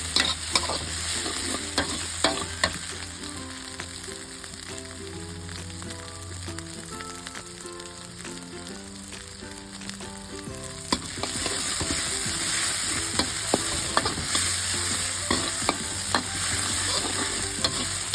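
Garlic stir-fried in a pan before eggplant is added, a steady sizzle with repeated scrapes and clinks of a spatula against the metal, growing louder partway through, close and alone with no talking.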